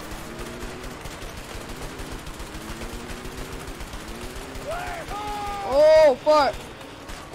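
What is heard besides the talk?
gunfire in the video game A Way Out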